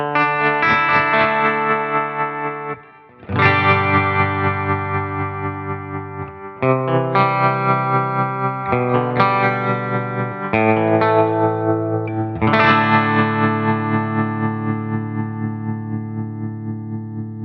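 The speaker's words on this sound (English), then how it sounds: "Let's hear what the trem sounds like" Electric guitar through a THU Overloud amp simulation with a tremolo effect, reverb and a 4x12 cabinet, ringing chords pulsing in fast regular volume wobbles over several sustained strums, alone without talk.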